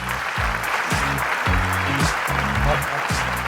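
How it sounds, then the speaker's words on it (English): An audience at a live founders' event applauds a co-founder coming up to give a product and technology demo, with steady, loud clapping running throughout while a voice talks over it. "Give him a round of applause."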